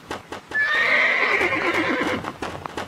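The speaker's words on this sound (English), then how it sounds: "All right, there's my new horse right there." A golden horse in the Roblox game Westbound gives a long, loud whinny of about a second and a half, with clip-clop hoof sounds before and after.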